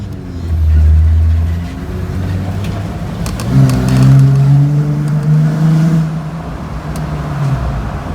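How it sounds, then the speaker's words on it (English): A Jeep Wrangler Rubicon on huge tires drives through the tunnel into the Daytona infield during Jeep Beach 2018. Its engine drones loud and close, rising and falling in pitch as it revs, and the sound reverberates within the enclosed space. "Driving into the infield through the famous tunnel."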